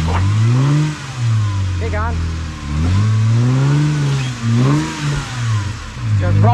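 A Jeep engine revs in repeated rising and falling surges as it crawls off-road through Cruiser Canyon, loud and close, with someone briefly speaking over it.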